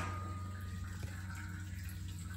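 Hot water runs from a tap into a pail on a farm while milk replacer is being mixed for bottle calves, a steady rushing splash with a low mechanical hum underneath.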